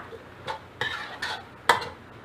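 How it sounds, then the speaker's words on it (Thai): Pork and holy basil with a spoonful of dried chili being stir-fried over high heat, spatula scraping the pan in a few separate bursts with light sizzle between, close and unaccompanied by speech. "ผัดให้เข้ากันอีกรอบค่ะ"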